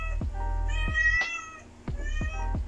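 A cat gives several short, close meows in an uneven rhythm, each rising and falling, with a steady low hum in the background.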